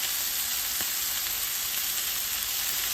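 Marinated meat fries in a pan with a constant dense sizzle, close and even throughout, with one faint knock early on and no voices.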